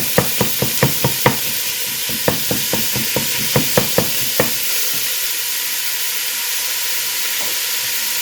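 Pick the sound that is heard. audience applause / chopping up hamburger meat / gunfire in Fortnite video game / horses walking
chopping up hamburger meat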